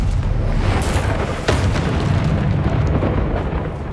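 A Confringo fire spell bursts in Hogwarts Legacy, sounding as a loud, rumbling boom with a sharp crack partway through, set over a steady wash of game noise.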